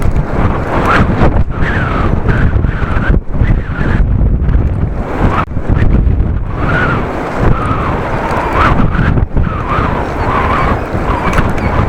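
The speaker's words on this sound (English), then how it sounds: "Only the wind is a problem." Heavy wind buffets the microphone on a bicycle ride in strong gusts, a loud continuous roar with rumbling low-end surges and no talk.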